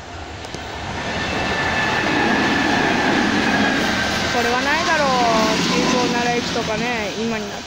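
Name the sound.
express train passing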